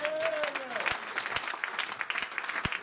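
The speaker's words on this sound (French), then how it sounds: "Donnons les acclamations" A church congregation applauds during a sermon, dense clapping with a few louder individual claps, while faint voices sound underneath.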